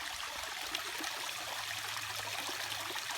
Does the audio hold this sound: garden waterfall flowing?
yes